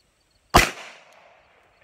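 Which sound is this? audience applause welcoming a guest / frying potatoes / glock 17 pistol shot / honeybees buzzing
glock 17 pistol shot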